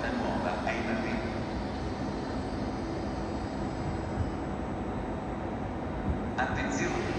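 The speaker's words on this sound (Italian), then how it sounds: "Attenzione, treno in arrivo al binario 15." High-speed train arriving at a platform in Roma Termini station, Rome, a steady broad rumble and rush of the approaching train with station ambience, a muffled announcement voice partly audible beneath.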